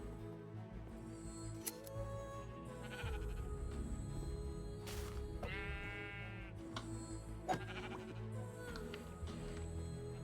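In the Minecraft video game, a sheep gives a few short bleats over a quiet, busy background of game sounds and soft ticks, one bleat standing out clearly in the middle.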